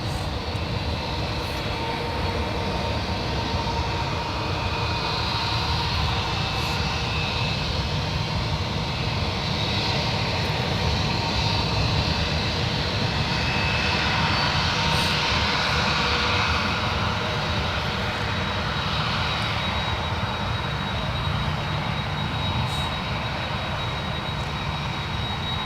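An American Airlines airliner landing at San Francisco airport, its engines giving a steady, continuous roar that stays loud and broadband throughout, with no voices.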